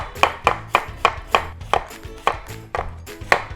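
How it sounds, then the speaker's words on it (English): A knife chops briskly through red cabbage on a board, about a dozen crisp, even strokes in a steady rhythm, close up with no talking. "I'm gonna tilt my cabbage and I'm gonna start cutting it like this"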